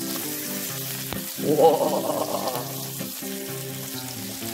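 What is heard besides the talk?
thick pork steak sizzling on a hot pan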